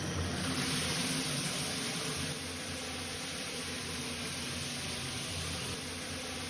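A rain shower head runs at full flow, giving a steady, dense hiss of falling water that stays loud and even throughout, with no voices over it.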